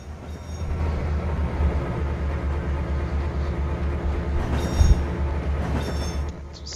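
A Conrail local freight train rolls along in Train Simulator 2012, with a steady low rumble of wheels and cars punctuated by brief high squeals and a couple of clunks, all without talk.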